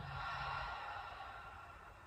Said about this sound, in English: Exhale with sound.